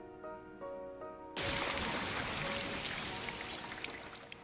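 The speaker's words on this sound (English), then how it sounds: "a massive quantity of cryptoglobin spewed out from my mouth. It was like a waterfall, or even a geyser." Cryptoglobin gushing from a mouth in The Hundred Line -Last Defense Academy-: a sudden loud, steady liquid rush, like a pouring waterfall, bursts in after a quiet tonal stretch and keeps flowing to the end.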